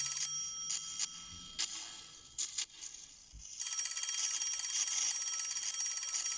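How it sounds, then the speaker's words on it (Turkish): A telephone rings in the horror video game Reporter, a bright repeating electronic ring in bursts that turns into a steady continuous ring partway through, fairly loud with no talk over it. "Telefon."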